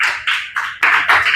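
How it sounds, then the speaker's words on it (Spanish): Church congregation clapping during a worship service, a series of loud, close, rhythmic claps in a steady beat, about five strong strikes heard clearly with no voices. "Dale un aplauso a Jesús"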